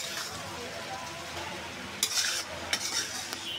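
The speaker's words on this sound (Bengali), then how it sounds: "আমি আর কিছুক্ষণ ভেজে নেব।" A beef, egg and pasta mixture frying in a pan for a restaurant-style beef pasta: a quiet, steady sizzle, then a few metallic scrapes and clinks of stirring toward the end.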